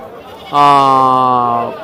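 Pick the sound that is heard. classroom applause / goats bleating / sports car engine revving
goats bleating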